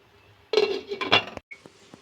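A utensil stirs rice cooking in a metal pot, making close scraping and clinking, and then a lid goes on with a short clank after a brief pause; fairly loud, no talking.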